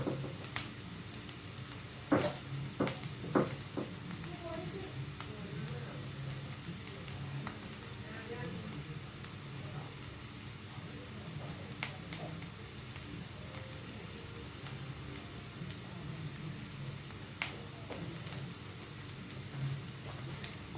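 Onions sautéing in a pan for tomato rice, giving a soft, steady sizzle with occasional clicks of stirring, fairly quiet, while a voice talks over it.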